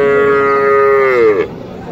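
A Friesian dairy cow at a cattle market gives one long, loud moo close by that slides down in pitch and fades out, followed by low background murmur.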